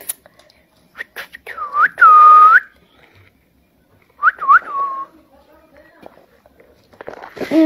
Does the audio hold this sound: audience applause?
no